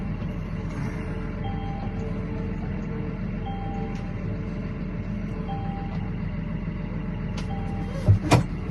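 A reversing vehicle sounds a regular series of intermittent warning beeps over a steady low engine drone, moderately close, with a couple of brief clunks near the end and no speech.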